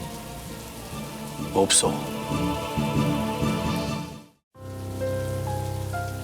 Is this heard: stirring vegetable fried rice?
no